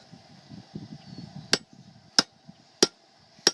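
Hot metal being forged takes four sharp, ringing hammer blows at fairly even intervals over a low background rumble and murmur in an ironworks shop.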